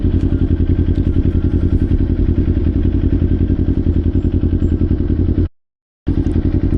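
Kawasaki Ninja 500 motorcycle engine thrumming loud and near with a rapid pulsing exhaust beat, held steady through rev-matched downshifts before a brief cut to silence and then resuming.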